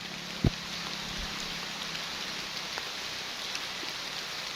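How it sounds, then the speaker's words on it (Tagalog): Steady rain falls on a road trip between Dumaran and El Nido, a dense, even hiss that stays the same loudness throughout, with one brief thump near the start. "Umulan ngayon"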